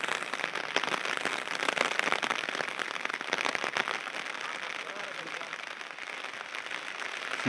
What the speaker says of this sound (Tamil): அடுத்து மழை பெய்யுது.